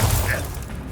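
Bombarda spell explosion in Hogwarts Legacy, a single loud booming blast that rumbles and fades over one second.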